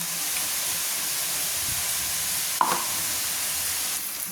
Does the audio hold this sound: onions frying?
yes